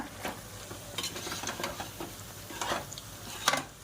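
Chicken cooks in biryani masala in a pan with a soft, faint sizzle, broken by several scraping stirs of a utensil and no talking.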